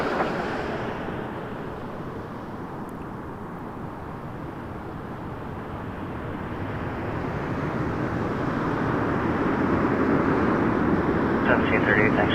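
An airliner on approach to Toronto Pearson Airport runway 24 left gives a broad, steady engine roar that swells gradually as it nears, heard outdoors under tower radio chatter.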